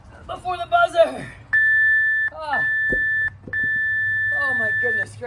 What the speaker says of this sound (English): Before the buzzer.